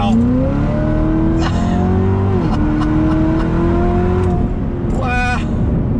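A 2019 Corvette C7 ZR1 engine pulls under full throttle on a highway, a loud close rising roar that climbs through gears with brief shifts, with a voice exclaiming near the end.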